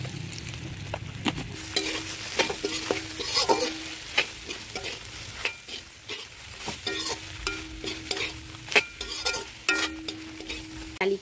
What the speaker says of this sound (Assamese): অলপ ভাজি লৈছোঁ চয়াবিনখিনি অলপ ৰংচোৱাকৈ অলপ খেৰাকৈ ভাজি ল'ম